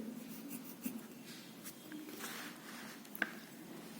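Pen writing on paper in a quiet room, soft scratchy strokes with a couple of sharper taps as numbers are written, close and faint with no talking.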